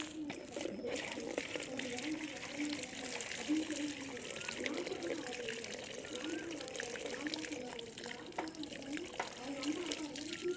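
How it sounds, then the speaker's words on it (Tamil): Water is poured in a continuous trickling, splashing stream, moderately close, with voices murmuring faintly underneath throughout. "தண்ணி ஊற்றிடுங்க"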